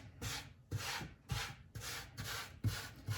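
Flour being pushed and swept with a rolling pin across a floured work surface while making Boston cream doughnuts, heard as six close, steady scraping strokes in an even rhythm with no talking.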